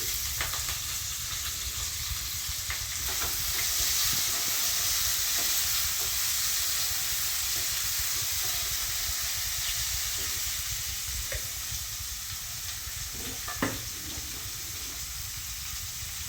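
Onion sautés in a pan with brinjal, producing a dense, continuous sizzling hiss close by, broken by occasional light clicks and scrapes from stirring.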